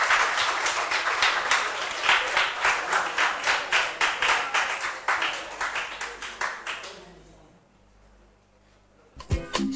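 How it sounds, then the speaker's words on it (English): An audience at a quiz-style competition round claps in quick, rhythmic unison, loud and close, for about seven seconds before fading to silence, followed by a brief noisy burst at the end. "Yes, let's clap for them."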